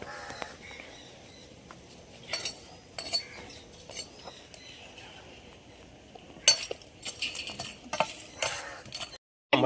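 A father roasts peanuts in a pan, stirring them with a utensil: quiet stretches broken by bursts of scraping and metallic clinks, close and intermittent.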